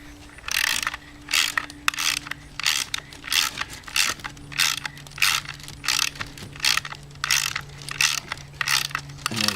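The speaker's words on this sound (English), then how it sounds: "take our wrench and tighten things down" A ratchet wrench tightens screws into T-nuts on a carry plate, its pawl clicking in steady quick bursts, about twenty ratcheting strokes separated by short pauses, close and clear with a faint hum underneath.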